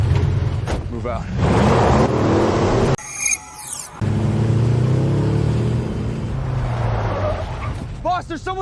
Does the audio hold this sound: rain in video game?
no